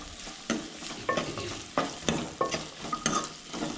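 Ginger, garlic and onion frying in a pan with curry leaves for a Goan cowpea and drumstick bhaji, a steady sizzle broken by about eight rhythmic spatula scrapes and taps, close and moderately loud, with no voices.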